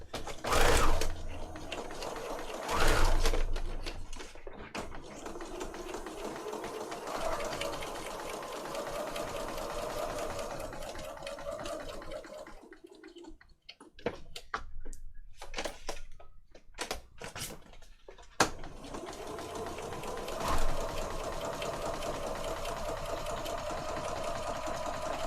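Sewing machine running a straight stitch in steady bursts, close and fairly loud, with short pauses and clatter in the middle; a voice speaks briefly near the end.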